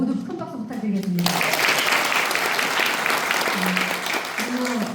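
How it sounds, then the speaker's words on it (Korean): Audience at a Democratic Party women's committee event in Cheongju bursts into applause after a short stretch of talk, the clapping steady and fairly loud, with a voice speaking over its tail end. "모두 큰 박수 부탁드리겠습니다."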